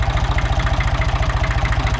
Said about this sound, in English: Hopefully that will take out a lot of the engine noise.